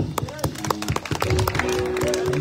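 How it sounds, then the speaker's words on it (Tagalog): An audience at a love banquet claps in quick, uneven bursts while a loud voice speaks over the applause. "Palakpak!"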